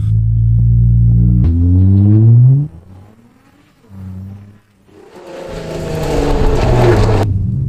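A loud Nissan GT-R engine revs and drones nearby, drops to a quieter idle, then surges again with a roaring rush as the car speeds past on the road.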